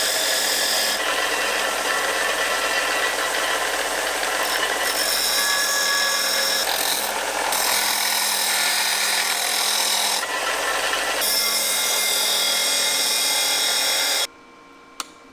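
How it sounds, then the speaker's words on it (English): A power tool grinds bevels onto steel tubing edges in a welding setup, making a loud, harsh rasping whir in long continuous passes with brief pauses, then cutting off abruptly near the end. "First, we'll bevel the edges where we need to make a weld."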